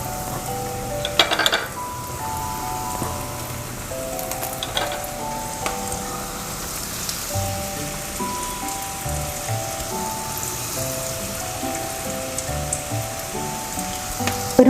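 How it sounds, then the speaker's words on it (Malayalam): Prawns dropped one at a time into hot oil and deep-fried, a steady crackling sizzle that runs throughout with a few louder pops and spatters, close and alone without any voices. "നമുക്കിനി പ്രോൺസ് ഓരോന്നായിട്ട് ഇട്ട് കൊടുത്ത് വറുത്തെടുക്കാം."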